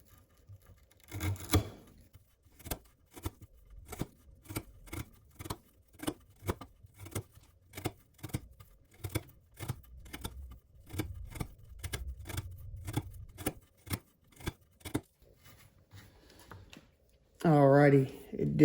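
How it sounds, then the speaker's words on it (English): Kershaw High Ball XL folding knife slicing through 3/8 twisted sisal rope, a long run of about two dozen sharp, evenly spaced cutting snaps, close and crisp, with a brief louder rustle near the start and handling noise at the end. "we're gonna cut some 3/8 twisted sisal rope"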